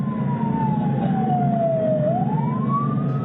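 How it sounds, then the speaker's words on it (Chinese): Fire engine siren wailing loud and close at a house fire, its tone sweeping down then rising again over a rumbling engine. "消防车赶到火灾现场，火势已经全面燃烧"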